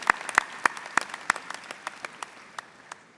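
Audience applause at a 2010 fall university commencement ceremony, sparse and scattered claps that thin out and fade over about three seconds.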